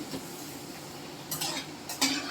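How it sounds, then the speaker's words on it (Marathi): Coriander vadi fry in hot oil with a soft, constant hiss, and a few louder bursts of bubbling and stirring near the end of the short stretch. "तर एक एक करून आपण तळून देऊया."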